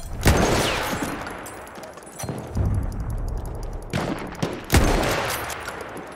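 Enemy machine gun fire in the Battlefield 1 video game: loud, sharp bursts of rapid shots broken by short pauses, with rumbling booms and battlefield noise between them.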